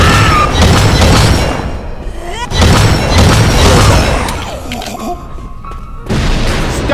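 Heavy booming blasts and crashing explosions roar loudly and almost continuously in Left 4 Dead 2 gameplay, with brief lulls between bursts, and voices talk over the din.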